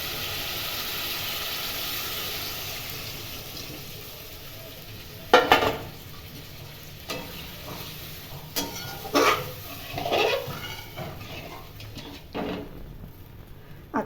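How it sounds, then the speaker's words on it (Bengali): Spiced curry paste sizzling and hissing in a pan with leftover fish-frying oil as water is poured in, followed by scattered clinks and scrapes of stirring, close and moderately loud without talk. "এবার আমি এর মধ্যে জল ঢেলে দেবো।"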